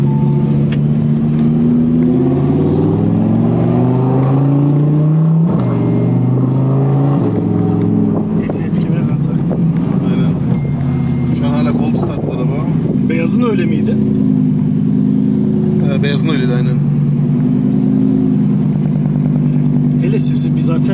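An Audi R8 with a loud aftermarket exhaust, tuned to about 650 whp, revs hard, with rising and falling engine tones through the whole stretch and a few brief sharp bursts, while people talk over it.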